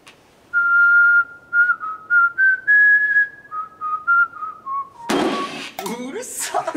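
A person whistles the melody of a song as a whistling quiz round, a clear tonal tune in short held phrases, followed by a burst of loud overlapping reaction and talk at the end.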